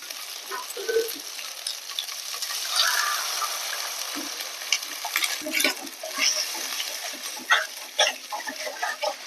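Water poured into a curry frying in a pan sets off a steady, close sizzle, with occasional stirring clatter on top and no talk.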